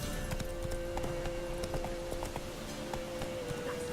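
Roach the horse from The Witcher 3 trots along with steady, rhythmic clip-clopping hoofbeats, close and even, over a faint ambient hum with no talking.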